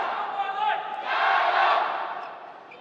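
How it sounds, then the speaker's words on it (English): A badminton crowd at the women's doubles final of the 2014 Asian Badminton Championships, China facing Korea, chants loudly in rhythmic unison for China, the roar swelling in the middle before fading. "Again, the Chinese have taken over the crowd."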